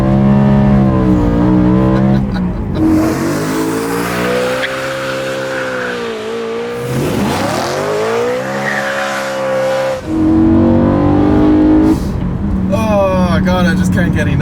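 A BMW E9X M3 drifts with its engine revving hard, the pitch sweeping up and down through gear changes while tires squeal and skid, loud and close throughout.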